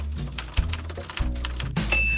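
Rapid, uneven clacks of a typewriter being typed on, close and crisp, with a bright ring of the carriage bell near the end.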